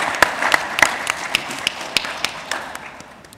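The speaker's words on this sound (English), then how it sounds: "Please give them a round of applause." A sparse round of audience clapping at the Africa Bitcoin Conference, a few distinct claps ringing out at a fairly steady pace, moderately close and fading toward the end, with no talking over them.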